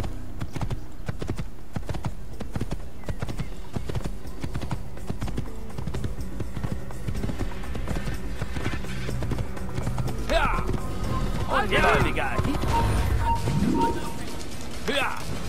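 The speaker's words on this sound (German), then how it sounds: "So, wir reiten also weiter." Horse hooves gallop in a rhythmic clip-clop from the video game Assassin's Creed, a continuous run under game ambience, with a few brief sharper bursts near the end.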